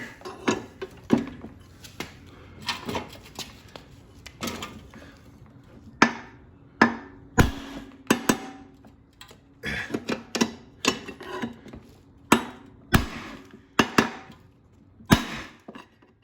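Irregular sharp metallic strikes ring out one after another, each a loud single blow from a 2.5-pound hammer with short pauses between, during repair of a 2011 Craftsman lawnmower.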